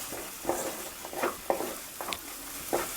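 A spatula scrapes and stirs green peas through sizzling masala in a wok, soft irregular strokes over a quiet, steady frying hiss, close and fairly faint.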